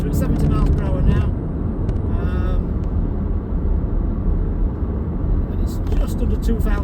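Vauxhall Astra GTC 1.4T SRi automatic cruising at 70 mph, just under 2,000 RPM, with a steady low engine and road drone inside the cabin while someone talks over it.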